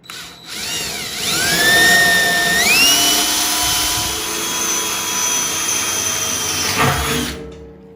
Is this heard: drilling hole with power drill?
yes